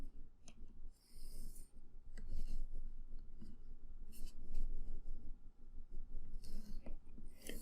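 A pencil scratches perspective lines onto paper in short, quiet strokes, close and faint, with several separate passes and soft rustling between them.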